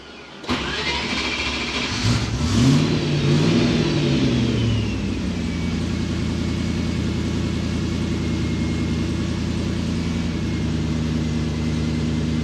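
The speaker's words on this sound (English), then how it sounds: "It's a high idle, then it slows down." A Range Rover Classic engine starting, then holding a high idle before its pitch falls and settles into a steady lower idle, close, loud and continuous without talk.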